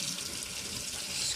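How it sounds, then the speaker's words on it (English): A water tap runs in a steady, close hiss as it fills a baby doll's bottle, with no voices. "I am assuming that you just turn on the water"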